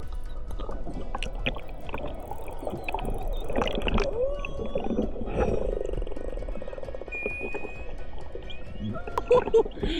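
Killer whales call underwater while chasing a sea lion. Whistles and squeals rise and fall above boat and water noise, with a few clear tonal calls standing out toward the end.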